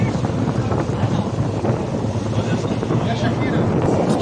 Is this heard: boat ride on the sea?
yes